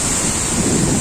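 Water thunders through the gates of Madduvalasa dam in a loud, unbroken roar with heavy low rumble and a steady hiss of spray, heard up close with no voices.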